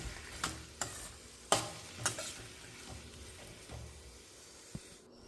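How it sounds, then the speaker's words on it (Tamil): Ripe tomatoes being sautéed in a pan for a chutney give a low steady sizzle, with several sharp stirring scrapes and clinks of a spoon against the pan, close and fairly quiet. "அடுத்தது பழுத்த தக்காளியாக ஒரு 4லிருந்து 5 சேர்த்திக்கலாம். இது நல்லா மசிஞ்சு வர வரைக்கும் வதக்கிக்கலாம்."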